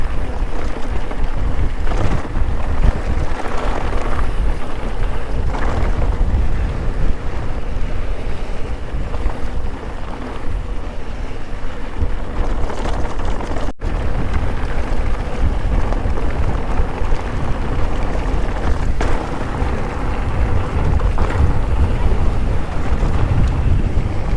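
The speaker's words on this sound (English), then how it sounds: "Blowing a gale up here." Strong gale-force wind buffets a rider mountain biking on the exposed hilltop at Stanage in the Dark Peak, a constant loud roar with gusty rumbling across the whole stretch and no talk.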